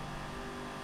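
A Ford Mustang tuned to about 1500 horsepower roars at full throttle in Forza Horizon 5, a loud sustained engine drone holding steady through a brief burst.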